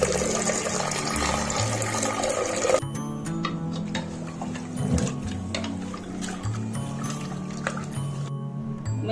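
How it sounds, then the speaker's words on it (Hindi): Mixed lentils being washed in water for Amritsari dal, with close, steady sloshing, trickling and splashing as the water is stirred and poured, and no one talking. "पहले हम इस दाल को अच्छे से धोएंगे।"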